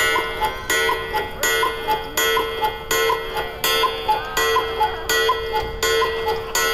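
A large decorative clock ticks steadily and loudly, about two even beats per second with a faint ringing tone under each tick, alone without talk.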